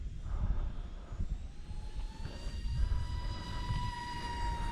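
A Wltoys A170 B787 twin brushless EDF RC jet sweeps past close by in a flyby, its ducted-fan whine rising in pitch and swelling in loudness over a steady low rumble of wind and background noise.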